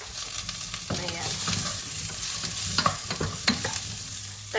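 Onion sautéing in a pan gives a soft, continuous sizzle, broken by clinks and scrapes of stirring with a utensil against the pan, close by and with no voices.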